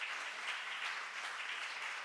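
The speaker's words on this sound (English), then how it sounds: "let's give a round of applause to our wonderful musicians" A church congregation at a Sunday service applauds its musicians and chorus, a dense, even wash of clapping from many hands that holds steady throughout without a break.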